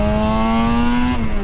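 Suzuki RG500 two-stroke motorcycle engine revving high and steady, a loud close whine that holds its pitch and then dips slightly near the end, with no talking.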